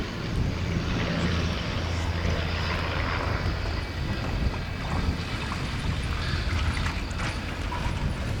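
A de Havilland DH-89 Dragon Rapide biplane flies at an airshow, a steady droning engine roar mixed with heavy wind buffeting on the microphone, continuous and fairly loud throughout.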